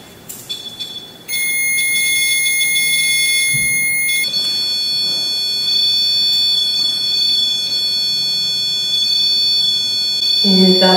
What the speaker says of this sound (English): Can you make that stop beeping for a second?